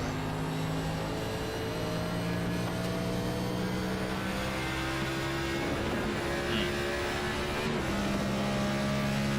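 A race car runs through the dogleg at Phoenix Raceway, its engine a continuous loud drone with shifting tones for the whole stretch, heard alone with no talk.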